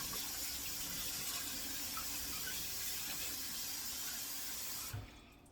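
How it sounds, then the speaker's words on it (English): Steady close rush of tap water running over cut potatoes in a sink, continuous and even, cutting off near the end with no voices. "So make sure you rinse your potatoes off good."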